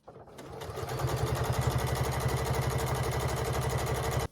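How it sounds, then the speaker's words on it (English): A home sewing machine runs steadily, stitching a quarter-inch seam along the edge of a fabric pot holder made from scrap and recycled clothing; a close, even mechanical whir with a rapid needle rhythm holds for about four seconds. "I am going to sew a 1/4 inch all the way down. I'm just going to follow my presser foot along the edge here."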